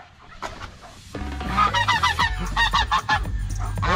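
Several geese honk loudly and repeatedly at close range, a noisy overlapping chorus that grows busier after a quieter start.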